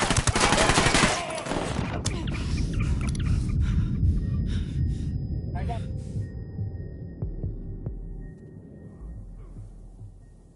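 In the game Ghost Recon Wildlands, rapid, loud bursts of automatic gunfire open the scene and then give way to scattered shots, rumble and quieter movement, with voices speaking in the mix.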